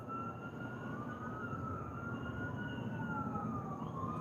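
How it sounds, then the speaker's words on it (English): Distant emergency sirens wail steadily in the background, their pitch slowly rising and falling over a low ambient rumble. "Right now I hear sirens."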